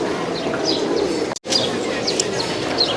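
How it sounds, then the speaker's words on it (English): Pigeons at a feeding place in Nepal coo steadily in a dense chorus, with chirps and bird calls over a constant outdoor murmur and a brief cut in the middle. "There's specific times that you can feed the pigeons."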